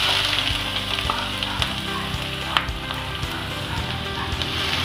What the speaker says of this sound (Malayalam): നമുക്കതിലേക്ക് കൊത്തി അരിഞ്ഞ് വെച്ചിരിക്കുന്ന ഇഞ്ചി ഇട്ട് കൊടുക്കാം.